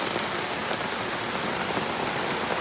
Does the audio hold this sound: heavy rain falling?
yes